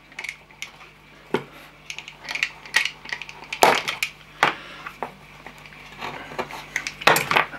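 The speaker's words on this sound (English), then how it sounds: "just cut this one off" A small model railway crossing gate post is snipped with a cutting tool, giving sharp crisp clicks and crunches at irregular intervals over quiet workbench handling noises, close and fairly loud.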